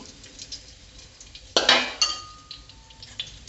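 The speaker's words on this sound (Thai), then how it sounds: "ใส่กะปิลงไปผัด" Shrimp paste hits a hot pan and is stir-fried: a sudden loud burst of sizzle with metal clinks from the utensil, then quieter scraping and taps.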